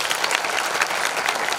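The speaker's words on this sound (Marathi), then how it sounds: "त्या सगळ्यासाठी जोरदार एकदा टाळ्या होऊ द्या." An audience at a Hindu kirtan in a village breaks into loud, dense clapping, many hands overlapping in a close, continuous burst of applause.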